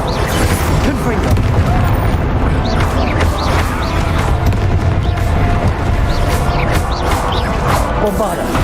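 Confringo fire spell explosions in Hogwarts Legacy, loud booming blasts and crashes piling up one after another in a steady, dense barrage with low rumble underneath for the whole stretch.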